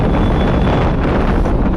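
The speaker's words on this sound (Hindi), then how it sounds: "बहुत ही तेज़ हवाएं चल रही हैं" Strong sea wind on a bridge near Dwarka roars and buffets loudly against the microphone, a constant dense rush with faint watery sounds underneath and no voices.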